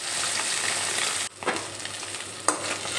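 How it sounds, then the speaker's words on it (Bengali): Bhola fish pieces frying in a pan after being flipped, giving a steady, close hiss of sizzling oil with brief bursts of crackle and stirring, with no voices. "মাছের এই সাইডটাও খুব ভালোভাবে ভেজে নেব"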